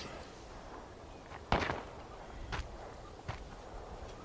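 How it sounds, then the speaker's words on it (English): Three sharp gunshots from the 2015 film Bone Tomahawk ring out, well spaced apart, the first loudest, against a quiet background. "So this is when you hear the gunshots."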